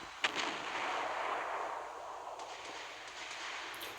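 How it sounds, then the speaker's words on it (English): Secondary guns of the German battleship H39 Friedrich der Große fire in the naval warfare game Naval Creed: one sharp crack near the start over a broad hissing roar, followed by several fainter, scattered reports. "Secondaries are going off at about 10 kilometers."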